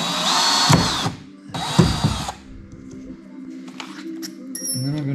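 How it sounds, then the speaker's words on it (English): A power drill bores a hole in thin sheet metal during a wedge camper build, with two loud whining bursts followed by quieter clicks and mechanical rattling nearby. "Drill it out."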